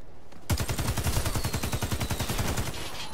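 A Stoner LMG A1 light machine gun rattles off a long, steady burst in the video game Warface, a rapid, loud, evenly spaced stream of shots running nonstop after a brief quiet start.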